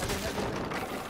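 Gunfire in the video game Rainbow Six comes as a dense burst of rapid, overlapping shots and booms, loud and continuous through the short moment, with no speech over it.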